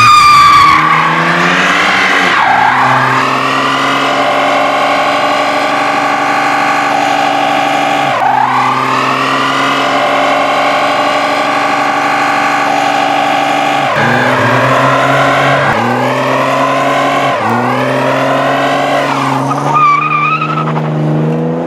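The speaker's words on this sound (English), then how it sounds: "And then I pulled it out and I started doing burnouts." A Chevrolet S10 pickup does burnouts. Loud, sustained tire squeal layers over the revving engine for about twenty seconds, rising and dipping in pitch as the throttle changes, with no talking.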